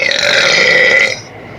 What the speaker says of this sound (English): let's do a big burp